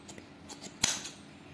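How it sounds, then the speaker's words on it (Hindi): Scissors cut through yarn while a pom pom is being made, giving a few soft close snips and one sharper, louder cut in the middle. "इनू हम आप कैंची दे नाल कट्टांगे, थोड़े थोड़े तंद पा के"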